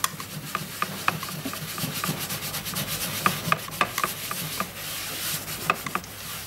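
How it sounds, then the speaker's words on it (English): Hot melt glue being rubbed off a surface after EV60 hot melt cleaner, heard as a steady scrubbing rub broken by repeated sharp scraping strokes, close and fairly loud with no talking. "I'll just start giving it a rub down and just see if it comes off."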